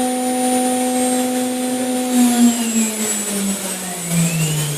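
A CNC machine spindle held at 15,000 rpm while it warms up, giving a steady, sustained high whine with a slowly shifting pitch and a constant mechanical hum, close and alone.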